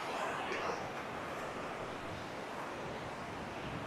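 Ocean surf washing onto a long fine-sand beach at Mauban, Quezon, a steady broad wash of breaking waves with some wind noise, continuous and fairly close throughout.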